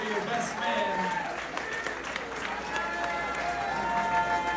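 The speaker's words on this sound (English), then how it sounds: "Applause for your best man." Wedding guests applaud the best man at the close of his speech, a spread of clapping and crowd murmur heard under ongoing talk in a reception room.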